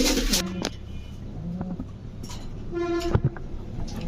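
Soft coos from racing and fancy pigeons at a pigeon seller's repeat a few times over steady background noise, with a couple of brief tonal calls in between.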